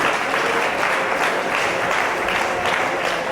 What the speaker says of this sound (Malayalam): കൈയടിച്ച് കർത്താൻ നന്ദി പറയാം